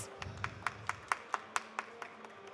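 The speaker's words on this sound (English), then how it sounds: "may we have a big round of applause?" A single person claps about ten times at a steady, even rhythm, crisp and fairly close, with a faint background hum.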